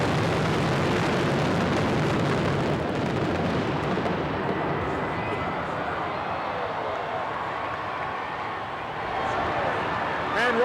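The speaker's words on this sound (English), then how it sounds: "More fireworks." Fireworks burst over the river at Thunder Over Louisville 1995, a dense, rumbling barrage of distant explosions that continues throughout and gradually thins toward the end.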